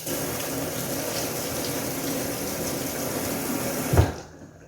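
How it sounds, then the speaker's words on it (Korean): Cold tap water runs steadily into a sink while parsley is rinsed and squeezed by hand, a soft continuous splashing that ends with a short bump before the flow stops. "요거는 찬물에 헹궈가지고 파슬리 특유의 쓴맛을 쪼물쪼물쪼물쪼물 씻어 내주셔야 돼요."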